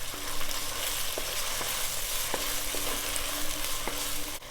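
Sliced potatoes sautéing with salt in a pan give a steady close sizzle, with a few evenly spaced stirring scrapes and taps over it and no voices.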